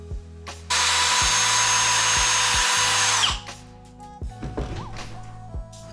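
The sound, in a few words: drilling pilot holes in wood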